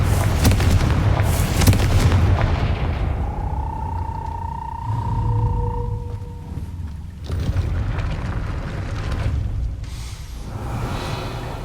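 The Confringo fire spell in Hogwarts Legacy lets off a booming, rumbling blast, then a rising whooshing tone and a sustained roar with some game ambience.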